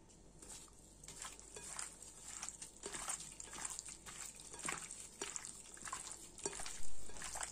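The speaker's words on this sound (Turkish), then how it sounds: "Hepsini ekleyip iyice karıştırıyoruz." Spices such as black pepper, red chili powder, salt and thyme being stirred together with a spoonful of tomato paste, a steady wet scraping and squelching with soft taps, close and continuous with no talking.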